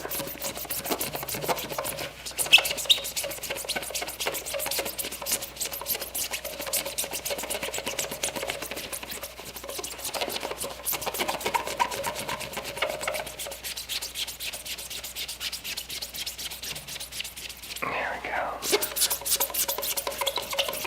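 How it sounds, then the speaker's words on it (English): A soft rag buffs a waxed wooden handle, making fast, continuous rhythmic rubbing strokes up close, with a brief pause near the end and no talking. "Just a nice soft rag. Give this a buff."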